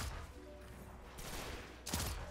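The No Time To Explain exotic gun firing in the video game Destiny 2, heard as a couple of loud shot bursts over low game ambience, with the stronger blast near the end and no talk.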